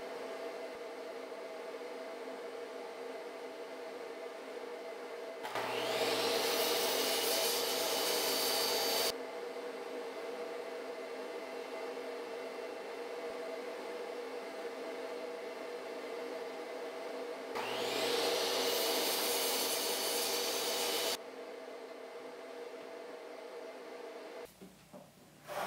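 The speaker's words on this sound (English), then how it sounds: "here I'm cutting the panels." A power tool cutting wooden panels for rustic farmhouse wall decor, two loud sustained cutting passes of a few seconds each, separated by a steady idling whine, close up with no talking.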